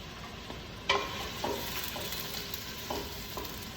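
Onions and garlic fry in a pan for pasta sauce, a steady soft sizzle broken by a few sharper scrapes and stirring knocks, fairly quiet and close with no talking.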